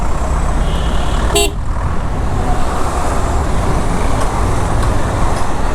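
Dense road traffic crawling in a jam between Zirabo and Gulshan, with a steady engine and road rumble throughout and one short, loud car horn toot cutting in near the start.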